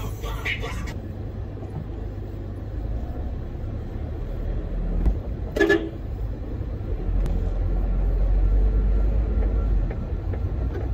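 A Toyota Revo pickup rolls along on a test drive just after a cold start, a steady low engine and road rumble underneath, with a few brief clunks and knocks partway through and a louder low drone toward the end.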